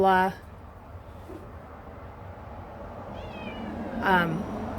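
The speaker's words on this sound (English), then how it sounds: "And here's Bo the cat." A domestic cat meows twice, one short call at the start and a longer one near the end, close by in a garden on a deck with a quiet gap between them.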